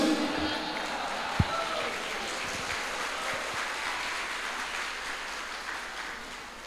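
An audience at a university student orientation event applauds, a dense, steady wash of clapping that holds evenly throughout with a sharp knock near the start.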